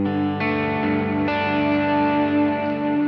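Guitar notes picked through a reverb pedal on its ambient setting, with sustained shimmering tones swelling and layering into a long wash of echo; new notes enter every half second or so and ring steadily with no talking.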